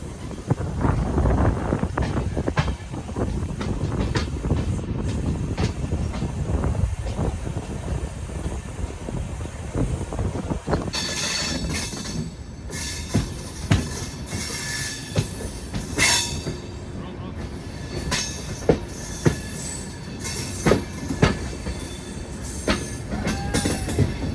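A moving Amrit Bharat Express train rumbles steadily with rhythmic clattering of wheels over rail joints and occasional squeals, heard from close by, with wind noise throughout.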